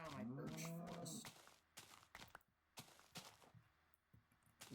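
Cow in a Minecraft-style beta server game mooing several times, a drawn-out tonal low call followed by scattered sharp clicks and thuds, close and clear.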